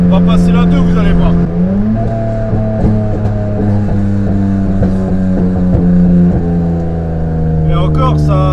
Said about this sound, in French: Ça pète pas comme ça devrait péter parce que j'ai une fuite d'échappement.